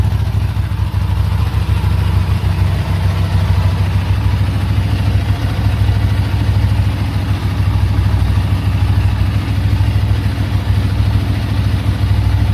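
A warmed-up Buell 1125 motorcycle engine idles steadily and loudly up close, a continuous low rumble with a faint mechanical clatter, holding the same note throughout with no voices.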